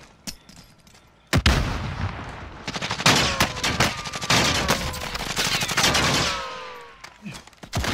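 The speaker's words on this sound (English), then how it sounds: "Oh no, I'm getting shot, bro." Automatic gunfire strikes the player in Warzone, one sharp crack followed by sustained, loud bursts of rapid shots layered with whizzing and ringing tones.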